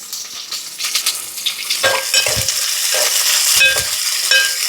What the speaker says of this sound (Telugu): నూనె పోసుకొని కొంచెం వేడిగా ఆగానే కొంచెం ఆవాలు, జీలకర్ర, ఉల్లిగడ్డలు ఎక్కువ వేసుకుంటే బాగుంటుంది